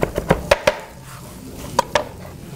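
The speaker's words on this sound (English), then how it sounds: "Chop up the parsley." A knife chops parsley on a cutting board in a kitchen, several quick sharp taps in a short burst, a pause, then two more chops, close and clear.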